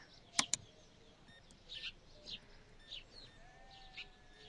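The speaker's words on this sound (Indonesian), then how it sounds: "ada suara kambing" Faint goat bleats in the video game Supermarket Simulator, a few short calls spaced apart, over a quiet background with a couple of sharp clicks near the start.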